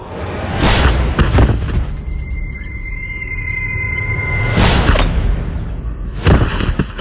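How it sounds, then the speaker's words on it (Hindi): Sudden gunfire effect in an action drama set at an army border post among high mountains and dense forest: several sharp, loud blasts spaced irregularly over a steady droning background, with no talking. "अचानक गोलियों की दंदनाहट से मीलों तक फैला सन्नाटा दहल गया।"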